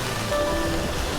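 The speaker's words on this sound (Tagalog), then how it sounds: "Ang lakas ng ulan!" Heavy rain pours down at Tokyo DisneySea, a dense, continuous roar of falling water heard close and loud without a break.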